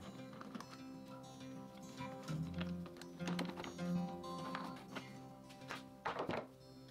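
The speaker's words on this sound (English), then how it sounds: "Using the hex wrench supplied, remove the 4 screws and then take the top cover off." Hex-wrench screws coming out and the top cover lifting off a DeWalt DW735 planer, a quiet run of faint taps, clicks and soft thunks close by in a small shop.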